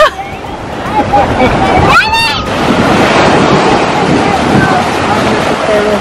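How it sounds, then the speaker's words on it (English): Big surf rolls and crashes along Hawaii's North Shore, a loud, steady wash of waves with wind buffeting the microphone and excited voices calling out over it. "North Shore has some really big waves"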